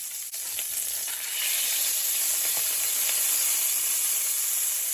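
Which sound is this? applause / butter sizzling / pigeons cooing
butter sizzling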